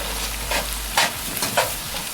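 Basmati rice is stirred through melted butter in a pan, a steady close sizzle with three bright scraping swishes of the spoon at roughly half-second intervals, alone without talk.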